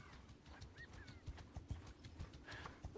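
Horses clip-clop along in the video game Bannerlord 2 War Sails, a quiet, irregular run of hoof thuds with an occasional faint whinny, heard alone without talk.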